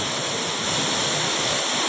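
Water pours down Pinlac Falls in a loud, steady roar, a broad unbroken rush of falling water close by with no voices.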